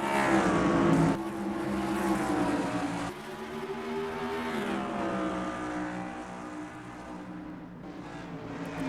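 A pack of stock cars races at New Smyrna Speedway, Florida, in NASCAR Racing 2003: loud, steady engine drones with shifting pitches as the cars run close together, with no talk over them.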